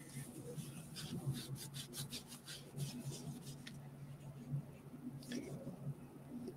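Mess is scraped off a silicone mat in quiet, close rubbing strokes that come in short repeated bursts, with a faint voice murmuring softly in the background.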